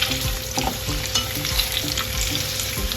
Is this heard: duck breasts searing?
yes